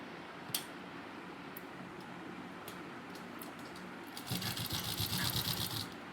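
Sewing machine stitching fabric while a pair of men's underwear is being made, a soft ticking background with brief taps, then a louder, steady run of stitching near the end.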